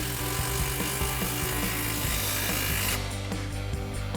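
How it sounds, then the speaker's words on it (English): An impact wrench with a 15mm socket tightens the exhaust clamp on a 2024-2025 Mustang GT's MBRP Armor BLK cat-back exhaust, a steady, close rattling hammer that runs continuously and then eases off near the end. "We just have to tighten our clamp. Same thing, impact and 15mm socket."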